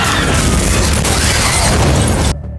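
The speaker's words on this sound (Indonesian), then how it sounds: "Dan dari belakang, Steve menembak mobil itu hingga terjadi ledakan besar" Film sound effect of a big car explosion after the car is shot, with fuel spilled on the ground: a loud, dense blast and rumbling roar that fills the clip before cutting off abruptly near the end.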